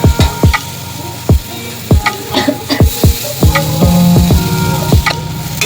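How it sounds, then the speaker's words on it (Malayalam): Cooked rice is tipped into frying masala for butter garlic tomato rice and stirred, giving a run of loud, rhythmic spoon knocks and scrapes against the pan over a low sizzle, with faint music in the background. "മസാലയുടെ പച്ച മാറുന്ന വരെ നമുക്ക് വഴറ്റിയെടുക്കാം. ഇതിലേക്ക് നമുക്കിനി ചോറ് ചേർക്കാം."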